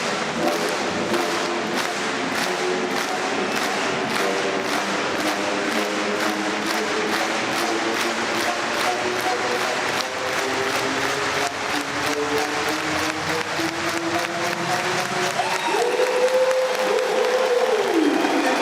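A packed arena crowd in Paris at a 2017 IIHF World Championship ice hockey game between France and the Czech Republic claps in a steady rhythmic beat and cheers loudly and continuously, with DJ music tones running underneath.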